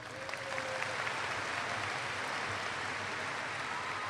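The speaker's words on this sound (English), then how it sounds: "Another round of applause." Graduation crowd at the Hillsborough High School Class of 2017 commencement applauding steadily after the graduates are congratulated, a dense and even wash of clapping that holds for several seconds at moderate distance.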